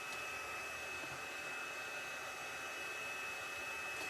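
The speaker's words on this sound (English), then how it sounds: "I'm going to start my heat gun and let it start to warm up" A heat gun warming up for melting embossing powder runs with a steady, continuous airy roar close by, unbroken and even in level throughout, with no talking.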